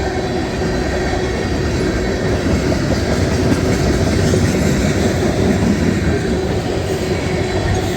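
A CSX freight train led by two Canadian National locomotives rolls past close by in Western Pennsylvania, its tank cars and hoppers producing a loud, steady rumble of wheels and clickety-clack with faint squeal, and no voices.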